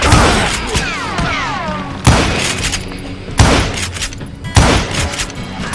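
Gunfire in Call of Juarez Gunslinger: four loud, close shots ring out at roughly even intervals, each with a sharp crack, booming tail and echo, plus whistling ricochets early on.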